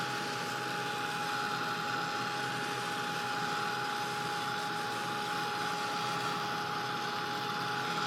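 A heat tool blows a steady, even stream of air while drying layers of mixed media paint on grungy tags, with a constant whine running through the whole stretch.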